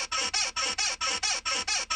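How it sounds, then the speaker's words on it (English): Bed squeak sample from Trillville's Some Cut, a rapid, even run of about eight creaky springy squeaks in steady rhythm, each one roughly a quarter second long. "the infamous bed squeak sound from Trillville's Some Cut"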